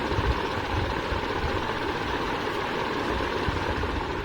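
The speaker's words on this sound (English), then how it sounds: "So yeah, the fan maxes out at about 58 to 60 decibels," A steady, broadband whooshing hum of a Jupiter Titan BLDC ceiling fan running at top speed 7, about 58 to 60 decibels, constant and fairly loud with a low rumble underneath, no talking.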